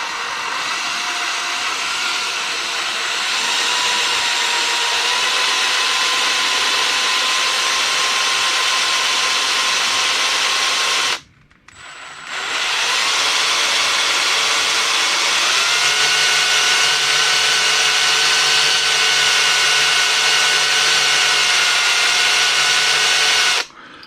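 A power drill bores into a broken exhaust stud, whining loudly and steadily up close for about eleven seconds, stopping briefly, then running again with a shifting pitch under load until the end.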